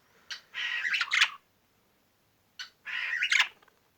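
Two harsh, scratchy squawks from an aggressive male budgerigar, each in a rapid burst with a brief pause between, loud and close with no voices.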